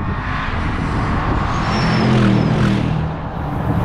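Bentley GTC exhaust giving a steady, muted low thrum from inside the moving car, continuous throughout with a slight swell midway and no talking.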